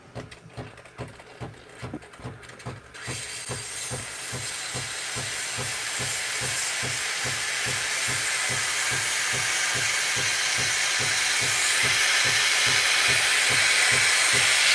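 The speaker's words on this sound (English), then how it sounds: "let's take a look at the steaming. Start the time." A Breville Barista Pro espresso machine pulses rhythmically for about three seconds, then its steam wand bursts into a loud, steady hiss that builds gradually and holds continuously to the end.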